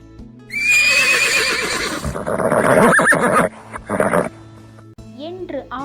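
A voice imitates a horse's neigh with a loud, long, wavering whinny, followed by a few shorter softer calls and clicks.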